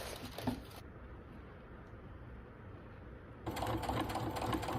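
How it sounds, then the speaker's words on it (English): A sewing machine runs steadily as it stitches decorative straight lines into a quilted fabric wallet, with a short burst at the start and a brief pause, then resuming its close, continuous whir. "So here I was just adding some like decorative stitches to make it look like a little bit like it was a quilted wallet"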